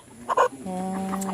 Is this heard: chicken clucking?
yes